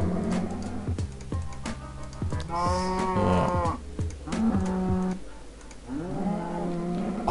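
Several Minecraft cows mooing one after another, long drawn-out calls overlapping at moderate loudness, with a few clicks and game sounds between them.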